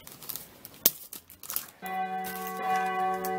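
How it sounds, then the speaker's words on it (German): Church bells ring from the church directly below, entering after a few soft crinkling handling noises and then sustaining a steady, resonant peal that stays moderately loud to the end. "sind die Glocken von unserer Kirche. Die Kirche ist direkt unten drunter."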